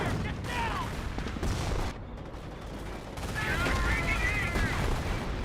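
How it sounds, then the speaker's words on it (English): Incendiary mortar fire and gunfire crackle through a Company of Heroes 1 battle, with dense overlapping shots and blasts continuing steadily at moderate loudness under a faint layer of background game noise. "Incendiary mortar."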